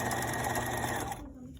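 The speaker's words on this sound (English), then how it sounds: "I'm gonna back tack, do a couple back stitches" A sewing machine back-stitches through a thick denim jean bag, a close, steady mechanical whir that stops abruptly partway through the short stretch.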